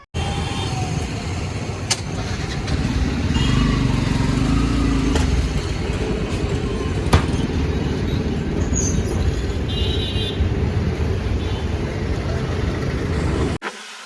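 A motorcycle engine runs steadily with a low rumbling drone, close and continuous, with a few sharp clicks before it cuts off at the end.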